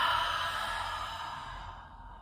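A long, breathy exhale through the mouth during a breathing exercise, a close, steady rush of air that slowly fades out over about two seconds.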